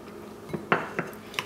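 A spoon or whisk knocks and clinks against a bowl while crêpe batter made with sugar is mixed, a few sparse close taps with no talking.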